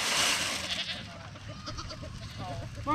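Goats on a farm bleat several times in short bursts, mixed with people talking nearby and light handling noise.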